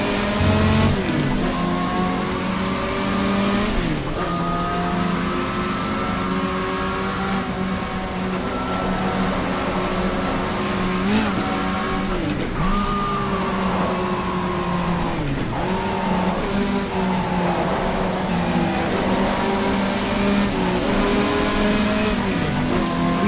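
Toyota Supra race car in the GTR2 racing game at Fuji Speedway, in a 1987 touring car season: a loud, continuous engine drone with pitch rising through the gears and dropping at each shift, running throughout.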